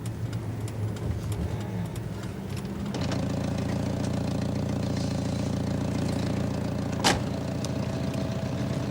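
Car engine with a defective muffler running loud and rough, a low steady rumble that swells louder partway through, with a brief sharp knock late on.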